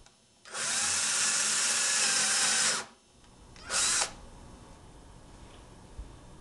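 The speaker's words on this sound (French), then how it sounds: "Lorsqu'il est nécessaire de percer verticalement, on peut se guider sur une équerre posée à côté de la pièce à percer." Power drill boring a vertical hole into a workpiece: one loud whine lasting about two seconds, a pause, then a short second burst, followed by quiet.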